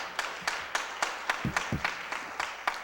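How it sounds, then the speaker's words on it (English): A small audience gives a round of applause at a thank-you presentation, heard as a sparse, steady patter of individual claps at moderate distance, with a few sharper, closer claps standing out. "let's give her one more big round of applause"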